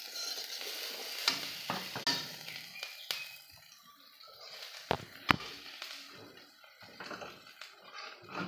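Chopped green chili, garlic leaves and onion stirred in a hot oiled pan, a steady sizzle and frying hiss broken by a few sharp taps and scrapes of the spoon against the pan.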